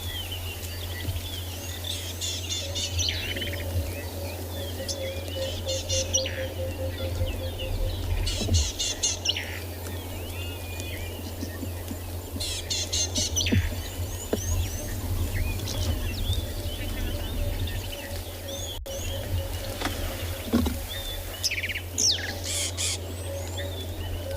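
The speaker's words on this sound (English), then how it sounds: "Beautiful sound of the bird in the background" Birds chirp and trill in short repeated bursts over a steady low hum, moderately near, with calls recurring every few seconds.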